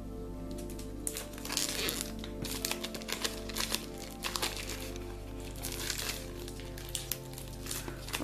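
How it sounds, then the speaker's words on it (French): Crinkling and rustling of protective plastic film being peeled and pulled off a new oracle card deck, continuous close crackles with sharp snaps throughout, no talking. "on va enlever le plastique de protection."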